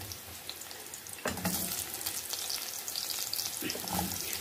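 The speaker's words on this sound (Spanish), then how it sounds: "vamos a incorporar la cebolla" Onion drops into a hot pan for sweet and sour chicken and sets off a sudden rise into a bright crackling sizzle that continues close by, with a few soft stirring clunks.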